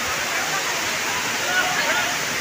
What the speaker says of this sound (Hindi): ये देखिए ये पानी जा रहा है पहाड़ के नीचे